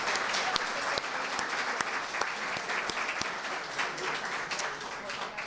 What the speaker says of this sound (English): Another round of applause for all our presenters this morning